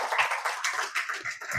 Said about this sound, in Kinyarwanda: tubanze tugukomera amashyi ku bikorwa